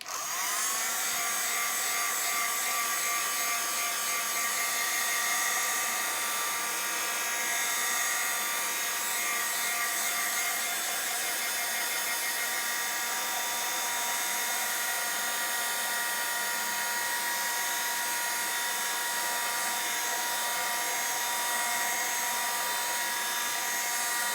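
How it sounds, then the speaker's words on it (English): A heat gun blows steadily on plastic for an alcohol ink stencil, a constant high-pitched whirring fan roar with an airy hiss, close and unbroken for the whole stretch, with no talking. "I know we say all the time about not wafting your air gun, your heat gun, but for this you do need to be wafting it around"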